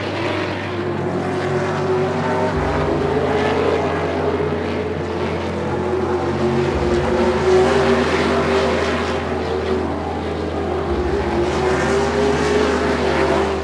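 Two Payet Racing race cars battle on a drag-racing festival track, giving a steady, loud engine drone that holds throughout, with no voices over it.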